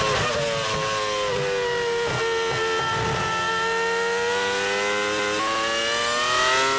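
A 2005 Formula 1 car's engine screams at very high revs on an onboard lap of Suzuka, loud and close, with a few quick up and down shifts before one sustained high-pitched wail, and no talking.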